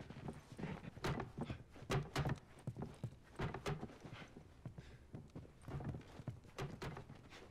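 Horse hooves clip-clopping across ground in The Last of Us, a steady run of distinct thudding steps at moderate distance with brief pauses, no talking over them.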